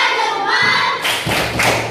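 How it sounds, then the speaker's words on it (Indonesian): A classroom of children does a rhythmic clapping routine, giving a few sharp, close group claps and thuds in quick succession. "Sekarang tepuk jempol."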